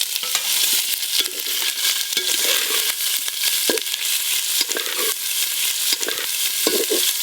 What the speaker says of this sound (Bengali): আজকে ঘি দিয়ে পনির ভাজবো।